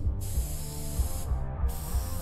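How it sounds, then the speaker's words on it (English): Steady hissing spray in Cyberpunk 2077, a continuous aerosol-like rush that runs through the whole moment, with brief gaps in the top end and a low in-game rumble underneath. "Was it stinking here and you're spraying?"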